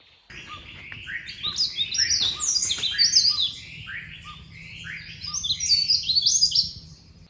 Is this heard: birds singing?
yes